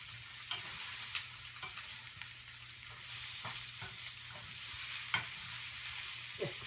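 Onion and marinated ingredients sauté in a pan with a soft, steady sizzle, while a few sharper clicks and stirring knocks stand out now and then.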